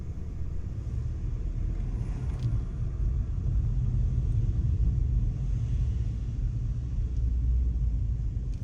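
Steady low rumble of a car driving through town streets in Guernsey, a continuous in-cabin engine and road drone with no talk throughout.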